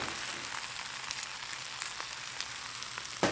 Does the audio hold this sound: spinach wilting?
yes